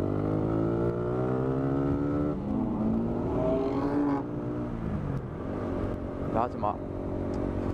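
A nearby vehicle accelerates alongside a BMW motorcycle, its engine tone rising in pitch through the gears under wind noise, while someone speaks briefly.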